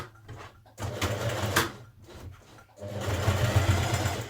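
A sewing machine back-tacks the underarm seam of a stretch knit top, running in short bursts with brief stops between them and then a longer steady run of stitching, close by.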